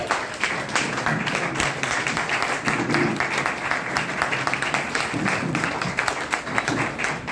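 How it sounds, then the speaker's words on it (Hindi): Sustained applause from a seated audience at an indoor achievers' celebration, dense steady clapping filling the room for several seconds with faint voices underneath. "उनके लिए खड़े होकर इनको बस तालियां होनी चाहिए"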